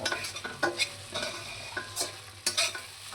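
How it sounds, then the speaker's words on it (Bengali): A spoon scrapes and stirs in a pan at irregular intervals over a soft sizzle of spice paste frying in oil for a shol fish rezala. "এইবার মশলাটা আমার ভাজা হয়ে এসেছে"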